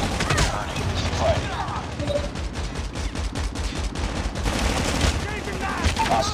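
An automated sentry gun firing during a Kill Confirmed match on Call of Duty Mobile, with steady rattling bursts of automatic fire running through busy, loud battle noise.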